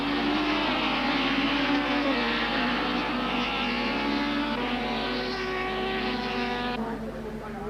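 Touring cars racing at Zwartkops circuit in a 1995 Super Touring event, a sustained loud engine drone with rising and falling harmonic tones as cars pass, continuous and fairly near.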